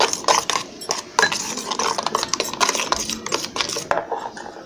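Spice paste being worked together with mustard oil in a bowl for steamed hilsa, a busy run of scraping, clinking strokes of a spoon against the bowl, close and steady with brief pauses.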